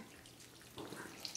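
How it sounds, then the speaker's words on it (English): Water poured from a cup into brownie mix in a kitchen, a short soft trickle that swells partway through, close and quiet, with no talking. "Now that we have our brownie mix, we must add 1/4 cup of water."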